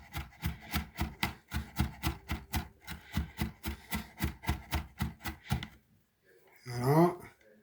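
A knife chops food on a board in a fast, steady run of about twenty close, crisp strokes for a dish of garlic-and-parsley potatoes with paprika-marinated pork chops, then stops, followed by a brief spoken remark.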